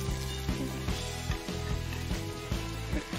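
Pieces of fish fry in oil with a continuous broadband sizzle. Soft, regular thumps recur underneath.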